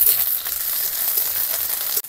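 Ginger-garlic paste sizzling with onions in hot oil in a pan, a bright continuous frying hiss that stays steady and close before cutting off abruptly at the end.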